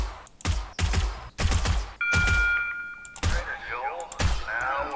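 A firearm shoots a deer in the survival game 7 Days to Die, Alpha 18: about six loud, sharp gunshots spaced irregularly, with speech around them.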